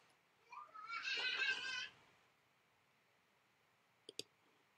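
Computer mouse clicks in pattern-making software: a quick pair of close, sharp clicks near the end, after a short burst of breathy rustling early on, otherwise a quiet room.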